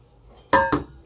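A stainless steel pot from a camping cookware set is handled, giving two sharp metallic clinks close by in quick succession with no talk.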